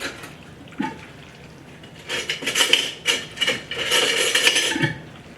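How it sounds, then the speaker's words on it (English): A metal spoon scrapes and clinks against a pot while beef liver is stirred and turned over, with irregular clattering bursts that grow busier and louder toward the end, close by and without talk. "Let me get a spoon and help you to like turn it over."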